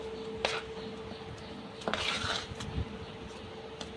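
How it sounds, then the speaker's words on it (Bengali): A spoon works through a thick batter of palm fruit pulp and flour in a bowl, giving soft scraping and rubbing with a few sharper clinks against the bowl, quiet and close. "এবার এটাকে ভালো করে অনেকক্ষণ ধরে মাখবো এই চামচে করেই মেশাবো"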